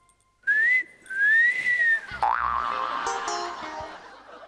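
A man blows a toy whistle on a comedy stage, giving two rising and falling shrill tones, loud and close, followed by a warbling, sliding tone that trails off.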